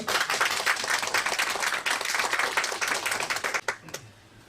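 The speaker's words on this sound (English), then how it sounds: "So please, let's give a round of applause to Osio" Audience members clap for a speaker in a fast, dense round of applause close to the mic, holding steady for several seconds before a few last claps and a quick fade.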